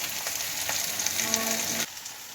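Spices with salt and turmeric fry in a hot pan, a steady bright sizzle with light stirring, ending abruptly near the close.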